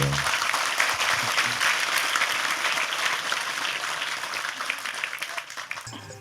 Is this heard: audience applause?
yes